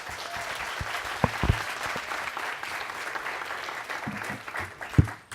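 Audience applause at the Santa Monica Travel & Tourism Summit, a steady wash of clapping from a large indoor crowd with a few sharper claps standing out, kept at moderate loudness throughout.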